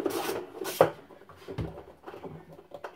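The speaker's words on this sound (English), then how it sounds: "I get my ratchet on it and loosen this up" A ratchet works loose a bolt on a Maytag Bravos XL top-load washer, giving close, uneven scraping and rubbing clicks with a few sharper knocks.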